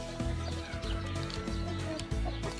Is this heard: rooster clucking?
yes